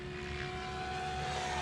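A Goblin RC helicopter flies nearby, holding a constant loud drone of rotor and motor with a steady tonal whine throughout and no voices.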